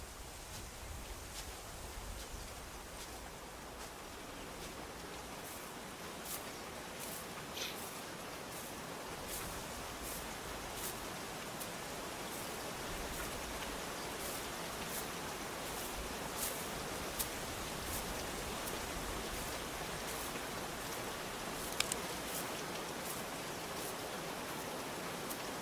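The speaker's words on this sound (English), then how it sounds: "Oh, it's raining." Steady, even video-game rainfall hisses continuously, with occasional sharper drips and ticks standing out over the constant wash of sound.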